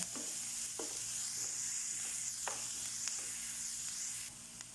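Onions sautéing in a pan for rava masala bonda, a faint, steady sizzle with a few soft spoon scrapes at irregular intervals and no talk.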